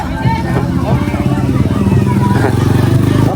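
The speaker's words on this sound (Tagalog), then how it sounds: "Oh, may motor, may motor." Motorcycle passing close by on a street during an outdoor feeding program, its engine a loud steady drone under overlapping chatter from people nearby.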